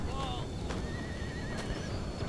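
A horse neighs with a wavering whinny over continuous battle ambience in the video game Empire: Total War, with hoof clatter in the mix, moderately loud within a dense game soundscape.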